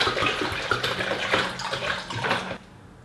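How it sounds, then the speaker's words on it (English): Water sloshes and splashes close by as a hemp fiber grow mat is pushed into a bowl of water, then the noise cuts off into quiet. "dip the hemp fiber into the bowl of water"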